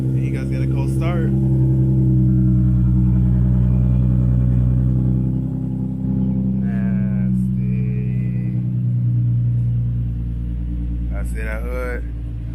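Infiniti G37 sedan engine cold start, a steady loud rumbling idle that swells slightly then settles, with brief voices talking over it.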